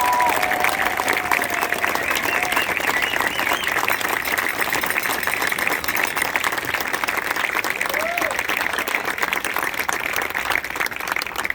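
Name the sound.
audience applause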